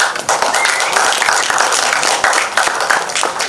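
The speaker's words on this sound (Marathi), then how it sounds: "एकदा जोरदार टाळ्या अमेय वाघसाठी." Loud, steady applause from a trailer-launch audience welcoming actor Amey Wagh for the Marathi film Ananya, dense clapping filling the whole stretch without pause.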